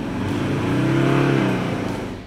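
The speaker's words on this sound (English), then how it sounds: "the engine suddenly becomes loud. It whooshes and whines" Ford Endeavour SUV engine revving under hard acceleration, a loud rising whooshing whine that swells to a peak and then eases off, heard alone and close.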